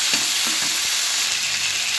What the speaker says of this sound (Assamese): অলপ ভাজি শাকখিনি দি দিম।